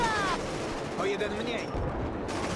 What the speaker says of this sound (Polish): Dobra, skąd on strzela?